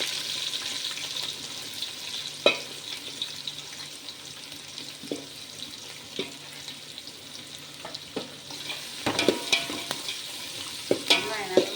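Onions sauté in oil for drumstick biryani, a steady hiss of frying beneath intermittent clinks and scrapes of a ladle stirring the pan, growing busier toward the end.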